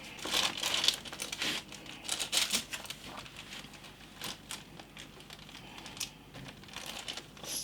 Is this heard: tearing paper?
yes